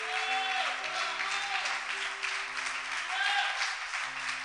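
A church congregation claps during a worship service. The applause is moderate and sustained, with sustained musical tones from a keyboard or organ playing underneath.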